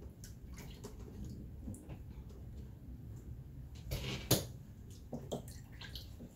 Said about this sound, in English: I'm going to put that in my water bath to clean it.